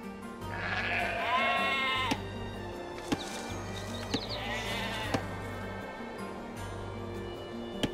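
Sheep bleating in the Age of Empires 2 video game, two drawn-out bleats heard fairly close over a steady game soundtrack, with soft periodic clicks from the interface.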